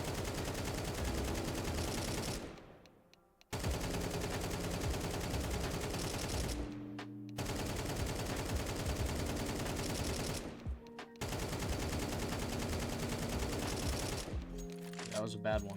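Rifle spray gunfire in the video game Counter-Strike 2 rattles in four long sustained automatic bursts, each a few seconds long, split by brief silent gaps, loud and close with no talking.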